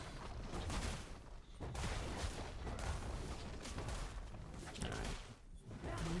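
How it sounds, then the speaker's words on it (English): A turret falls in a League of Legends match amid dense, loud game combat effects: continuous crashing, booming bursts and rumbling impacts with brief dips, packed and chaotic throughout. "Blue team's turret has been destroyed."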